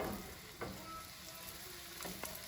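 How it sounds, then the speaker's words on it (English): Flour-dredged chicken thighs sizzle in olive oil in a medium-high pan, a soft, steady frying crackle with a few sharper pops, fairly quiet and with no talking. "now we're gonna put it into a medium-high pan with about a tablespoon of good olive oil"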